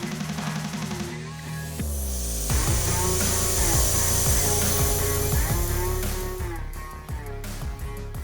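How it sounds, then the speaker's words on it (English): A pneumatic brake fluid puller hooked to an air compressor runs with a steady mechanical whir and a buzzing, pulsing drone, loud and close, with its pitch shifting partway through while drawing old fluid from a Porsche 718 Cayman S reservoir. "This is a pneumatic brake fluid puller, so instead of having to pump it or something, you just hook it up to your air compressor, you pull it out"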